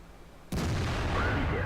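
A tank cannon fires in World of Tanks: quiet engine hum suddenly broken by a single loud, sharp blast that rolls into a sustained roar, no voices.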